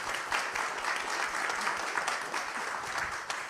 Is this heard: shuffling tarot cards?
no